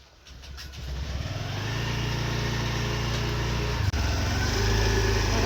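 A motorbike or scooter engine starts up and settles into a steady, close idle hum. A brief dropout comes near the end, then the running continues alone.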